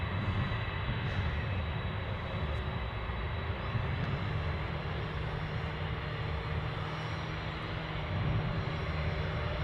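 An airliner departing Anchorage for Mexico City roars steadily in a continuous broad engine rush with a faint high whine, fairly loud and unbroken, with no voices.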